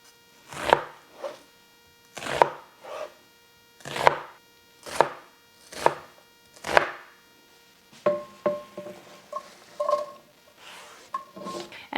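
Half of a large onion being diced with a knife on a cutting board: six loud, evenly spaced chops at first, then a quicker, lighter run of cuts.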